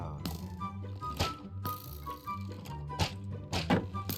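Repeated dull thunks and cracks of a Minecraft shield deflecting mob attacks in the Slimy Stuff mod, Minecraft 1.16.5, sounding as several sharp impacts at irregular intervals over a low droning game music bed, with no talk.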